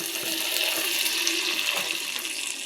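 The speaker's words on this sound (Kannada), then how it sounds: "ಈಗ ನಾನು ತುಪ್ಪದಲ್ಲಿ ಕರೆದಂಥದ್ದನ್ನ ಹಾಲಿಗೆ ಹಾಕ್ತಾಯಿದ್ದೀನಿ" Ghee-fried ingredients tip into milk with a short, steady watery splashing and pouring sound, close and fairly loud.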